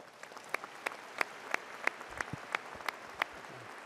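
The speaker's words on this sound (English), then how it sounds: "Let's give her another round of applause." At a December university commencement ceremony, an audience applauds an address with faint, sparse clapping, distinct individual claps landing in a loose, fairly even rhythm over a quiet hall background.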